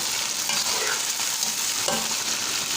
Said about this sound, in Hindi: इनको 2 से 3 मिनट हम अच्छी तरह से फ्राई करेंगे।